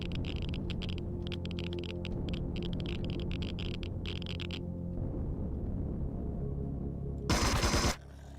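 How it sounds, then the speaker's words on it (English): Machine-gun fire aimed at the player in the video game Empyrion comes as rapid, stuttering bursts over a steady background hum, then stops. A short, louder blast follows near the end. "Something was shooting at me."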